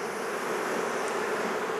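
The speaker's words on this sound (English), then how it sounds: "There's just too many bees there." Honey bees crowding a hive frame during a swarm-cell inspection make a steady, dense buzz that holds evenly throughout, close and fairly quiet, with no voices.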